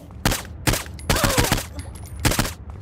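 Gunfire in the video game Saints Row IV: four loud, separate bursts of shots at irregular spacing, each a sharp crackling volley, with fainter game noise between them.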